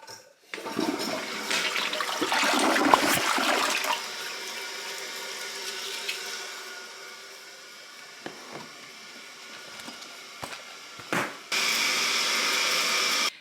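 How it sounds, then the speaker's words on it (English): A household toilet flushes close by with a loud rushing, gurgling surge of water that eases into a quieter trickle and refill, followed by a few clunks and a steady hiss of the tank filling. "and then just flush it."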